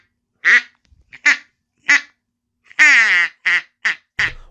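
A hand-blown duck call imitates a duck's quacks in a series of seven loud, close, nasal honks with short gaps, one longer drawn-out call in the middle, no talking.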